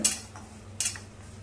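Dry ginger frying in oil in a wok, quiet background sizzle broken by two brief scrapes of a stirring spoon against the pan.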